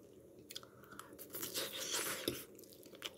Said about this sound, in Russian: Так лучше слышно чмяканье.